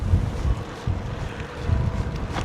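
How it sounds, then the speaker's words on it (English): Strong wind buffets the microphone aboard a Dumont boat, a continuous low rumbling roar with gusty surges throughout. "it's kind of hard to hear with the wind"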